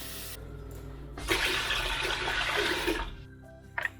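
Three litres of cold water for cassoulet beans pour into a pot in a steady rushing stream that starts abruptly, runs about two seconds and stops, with quiet kitchen noise around it.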